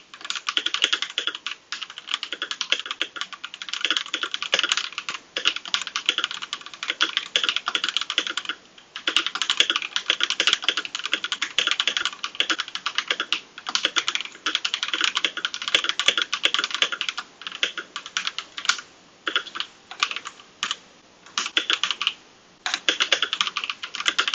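Rapid, continuous clicking of keys being typed on a Royal Kludge RK61Plus mechanical keyboard, close and crisp, with brief pauses between bursts and no talking.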